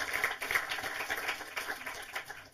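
Audience applause at an event with guest Caroline Link in the Deutsches Filmmuseum, a fairly quiet, steady patter of clapping hands lasting the whole moment with no voices over it.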